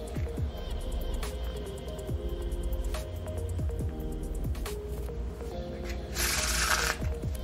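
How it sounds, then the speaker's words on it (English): Playing cards in a one-handed shuffle give a series of crisp close riffling clicks and soft snaps in quick bursts, ending in a brief louder flutter. "For number two, we have the one-handed shuffle."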